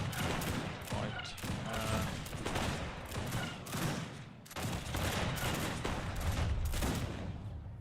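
Cannons and massed artillery in Age of Empires 3 boom repeatedly in a thick, overlapping barrage, loud and steady with sharp volleys punctuating the din.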